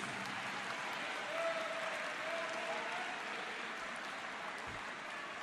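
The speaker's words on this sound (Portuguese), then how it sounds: "Pode aplaudir o Senhor Jesus." Congregation applause in a church during a sermon, a steady wash of distant clapping at low level with no clear speech on top.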